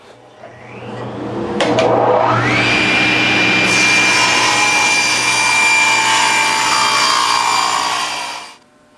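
A power saw cuts wood for a tool chest with its depth stop set, spinning up from a low hum into a loud, steady whining cut lasting several seconds before winding down, with no talk.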